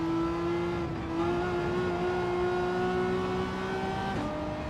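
A Renault Megane race car in Gran Turismo 7 holds a loud, steady engine drone throughout, its pitch climbing gently, then dipping briefly near the end, with no talking.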